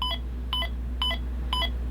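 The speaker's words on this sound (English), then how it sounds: "hold it down until you hear 4 beeps" Four short electronic beeps at an even, steady pace from a lightsaber hilt, each a quick bright double tone over a low constant hum.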